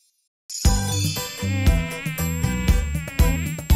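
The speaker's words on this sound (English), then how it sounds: "a mosquito. I bite and drink" A cartoon mosquito's high, thin buzz drones steadily over a bouncy kids' song with bright chimes and bass beats, starting abruptly after a short silence.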